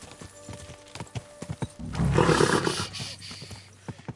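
A horse walks with irregular, close hoof clip-clops, followed by a loud snort or whinny burst in the middle and a few more steps afterward.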